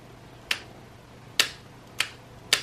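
Four sharp, crisp clicks ring out at uneven intervals as contactors in an electrical panel snap shut during Smart-ION device testing, against a quiet electrical hum.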